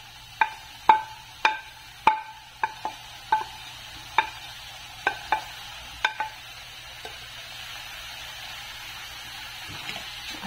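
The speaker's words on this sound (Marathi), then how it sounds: "फक्त गूळ विरघळेपर्यंत आपल्याला हे परतून घ्यायचंय" Grated pumpkin and jaggery are sautéed in a pan over medium heat, a series of sharp spoon scrapes and taps against the pan that thin out and stop, over a faint sizzle.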